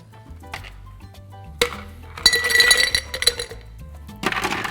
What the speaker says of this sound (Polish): Dodajemy kostki lodu